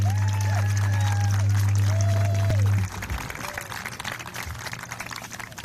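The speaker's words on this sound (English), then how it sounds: "You feel free to give them a round of applause." At a Valley Road School ceremony, an audience applauds students, a dense patter of clapping that continues after a loud sustained hum cuts off partway through.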